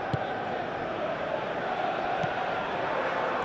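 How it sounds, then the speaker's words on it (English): Football stadium crowd at a match with Cucurella and Saliba on the pitch, a steady dense roar of many voices calling out, loud and continuous throughout with no clear breaks. "The crowd are calling for this to be put to bed."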